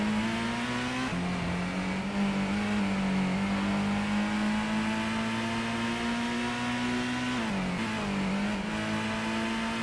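A racing car engine in Gran Turismo on the PS1 holds a sustained, buzzy high-revving drone, dipping briefly twice as the car shifts or lifts off, heard close and alone without talk.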